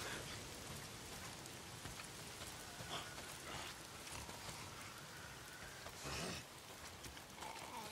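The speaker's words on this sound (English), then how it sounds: "If it's not the freaks, it's the goddamn rain." Steady downpour in the Days Gone video game, a dense unbroken wash of rain with brief swells of heavier drumming, heard alone without voices.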